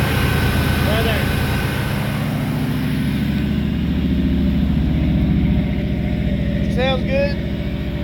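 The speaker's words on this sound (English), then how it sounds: "Alright, I got her idling. Now she ain't so noisy." A car engine idles after a cold start, giving a steady, close rumble that fills the whole stretch, with a short spoken remark over it near the end.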